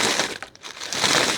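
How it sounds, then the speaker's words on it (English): Crunchy fried bits are crushed in a bowl, giving a burst of crinkly crackling, a short pause, then another dense crunch, close and loud with no talk. "We'll crunch them up a little more."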